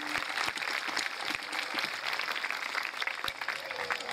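A gathering of children and adults applauds at a community event, a faint, continuous patter of many hands with a few sharper nearby claps, heard at a distance.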